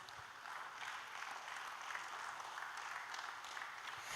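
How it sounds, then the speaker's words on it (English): Audience applause at a wellness and music event welcoming a Hindustani classical performer, a dense, steady wash of many hands clapping that holds evenly throughout without a break. "Let us all welcome him with a great round of applause."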